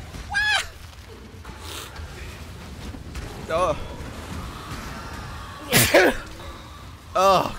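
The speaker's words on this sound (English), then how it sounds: "The sneezes are killing me" Sneezes heard during a Path of Exile gaming stream: several short, sharp bursts spaced a couple of seconds apart, close and fairly loud, with quiet room sound between.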